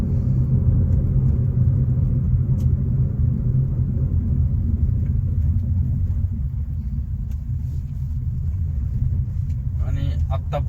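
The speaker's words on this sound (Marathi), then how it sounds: "ही आपली फ्रॉन्क्स डेल्टा CNG गाडी आहे" A Maruti Fronx Delta CNG car drives along with a steady, low engine and road rumble from inside the cabin, holding even throughout with no talk.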